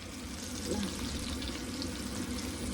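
Butter melting in a pan for kuymak, a Black Sea cornmeal and cheese dish, giving a steady, fairly quiet frying sizzle that runs continuously without talk.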